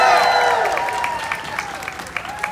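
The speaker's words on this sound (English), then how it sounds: "let's hear another round of applause" An audience at the California Afterschool & Summer Challenge 2019 event claps as a ringing tonal sound fades out, the applause a dense patter of many hands that gradually thins and sparses toward the end.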